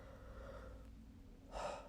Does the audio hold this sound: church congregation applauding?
no